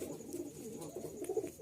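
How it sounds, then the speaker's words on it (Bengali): Pigeons kept with two chicks give soft, low cooing, a brief murmur of a few faint coos close by with no talking. "এই হচ্ছে কবুতর, এই হচ্ছে এদের দুইটা বাচ্চা"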